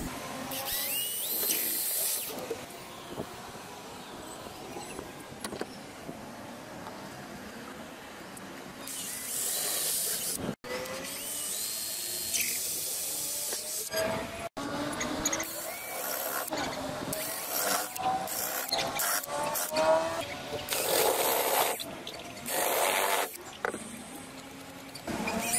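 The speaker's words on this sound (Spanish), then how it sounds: "Y ahora vamos a proceder a atornillar." Screws are driven into the wood of a homemade baby high chair, with long loud whirring, grinding bursts broken by brief pauses and clicks, close and continuous over about 25 seconds.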